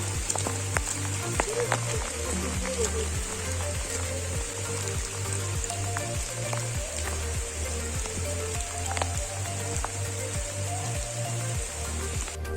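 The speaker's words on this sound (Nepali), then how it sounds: "अनि पानी पनि भयङ्कर परिरहेको छ" Heavy rain falls on a Himalayan mountain trail on the Mardi Himal trek, a dense, constant patter with a low rhythmic thumping beneath and faint voices.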